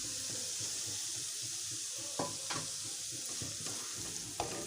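Spices and grated potato are stirred in a frying pan for a tomato egg omelet. A steady close sizzle runs throughout, broken by a few sharper scraping strokes of the spoon against the pan, with no talking.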